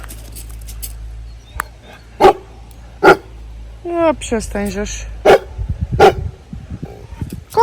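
A dog barks in several sharp, separate bursts amid other yips and whines, with people talking nearby at a farm kept with pallets.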